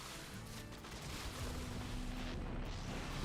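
Units in a strategy video game firing at rocks: a continuous dense rumble of muffled booming shots and impacts, steady and fairly quiet, with no clear gaps between them.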